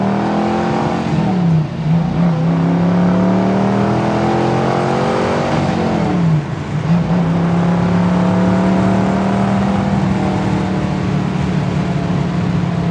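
A 1967 Ford Mustang K-code with a 289 V8 revs and accelerates through the gears from inside the car, a loud continuous engine roar with pitch dips at two shifts.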